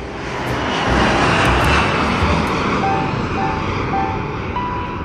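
A fixed-wing airplane's engine drones steadily and loudly, swelling slightly as it passes, with a broad continuous roar and no voices.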